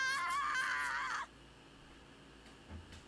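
A woman's high-pitched excited scream in the dating video game Date Everything, a loud wavering shriek lasting about a second that cuts off abruptly, followed by near silence with a faint low thump.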